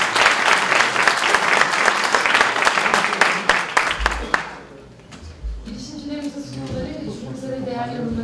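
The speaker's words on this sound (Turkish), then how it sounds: "Alkışlıyoruz." Loud, dense applause from an audience at a start-up summit in Ankara, steady for about four seconds before cutting off abruptly, followed by quieter room noise and a voice speaking.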